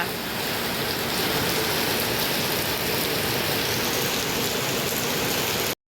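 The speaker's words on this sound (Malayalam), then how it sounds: "വാവ് സൂപ്പർ മഴ സൂപ്പർ മഴ" Steady rain pours down in a dense, even hiss that barely changes for about six seconds, then cuts off abruptly.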